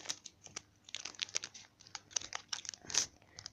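Plastic wrapper of a Pokémon trading card pack being cut open and pulled apart, close and crisp: a busy run of irregular crinkles, snips and tearing rustles with no talk.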